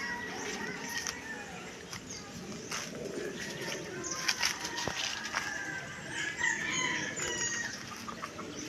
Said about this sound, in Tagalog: Kayong manok kayo dyan,